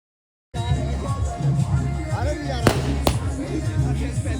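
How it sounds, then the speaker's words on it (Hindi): Firecrackers go off at a Chhath festival gathering: two sharp bangs in quick succession over a busy crowd backdrop with singing. "तो यहाँ पर काफ़ी लोग पटाखे फोड़ रहे हैं"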